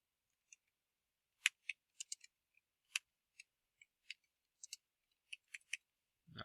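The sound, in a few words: typing on a computer keyboard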